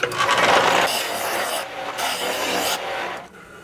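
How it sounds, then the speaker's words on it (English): Bandsaw and belt sander rounding off a piece of wood in a shop, a loud continuous raspy grinding that eases off midway, surges again, then fades out near the end. "I'm going to just roughly round this off on this bandsaw, and then take it over here to this belt sander down there."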